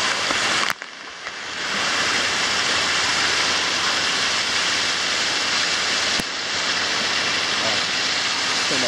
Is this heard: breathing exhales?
no